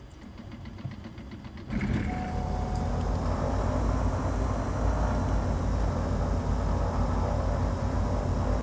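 A flight simulator's twin-engine DA42 aircraft engine spins up from a low whir into a steady, dense roar with a rising whine, continuous and fairly loud, no voices.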